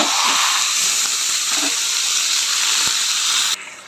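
Taro leaves tipped into hot oil that already holds fried garlic, nigella seeds, dried chilli and bay leaf, giving a loud, steady hiss of sizzling that runs unbroken for several seconds, then drops off abruptly near the end.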